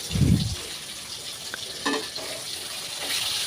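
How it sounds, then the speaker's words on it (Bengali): Pangas fish frying in hot oil in a home kitchen while being turned over, a steady soft hiss with a brief clatter at the start and a few light knocks, no voices. "তো মাছটাকে এপাশ ওপাশ করে ভালোভাবে ভেজে নিচ্ছিলাম"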